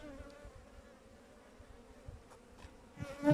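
A steady, dense buzzing of many honey bees in an open hive fills the clip, a close continuous hum with a few louder wingbeats swelling near the end.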